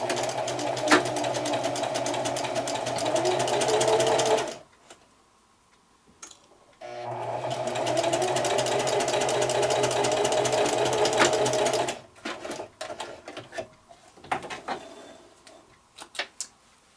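A sewing machine stitches quilt binding diagonally from corner to corner, running in two steady bursts of rapid needle clatter separated by a pause, then giving way to scattered light handling ticks and clicks.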